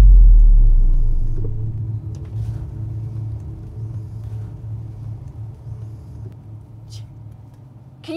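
A car rolls along a bumpy road, a steady low rumble of engine and tyres with an initial loud thump, interior and close, with faint scattered knocks.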